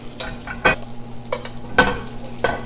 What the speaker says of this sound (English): You're gonna baste it like this.